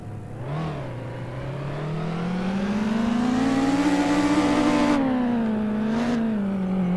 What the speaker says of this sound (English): let's see if the car moves